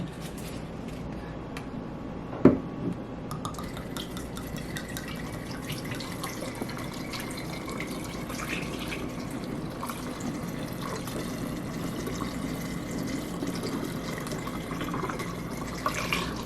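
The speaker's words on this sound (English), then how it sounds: "we're going to be transferring the actual Tito's vodka into the wine bottle" Tito's vodka pours through a funnel into a wine bottle, a soft continuous trickle and gurgle of liquid that stays low and steady throughout, with a single brief clink early on.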